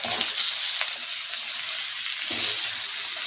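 Steady sizzling of potatoes frying in hot oil, close up, with occasional soft clinks and stirring sounds underneath.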